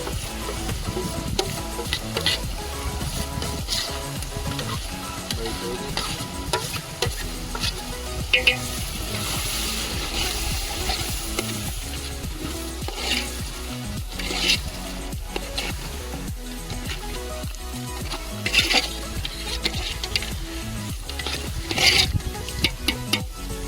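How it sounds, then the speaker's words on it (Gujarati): Chicken and masala stirred in a sizzling pot for rain-day biryani, with a steady loud fry hiss and repeated scraping, clanking strokes of the spoon against metal, close and continuous without talk. "મુરગીને હલાવવાની છે."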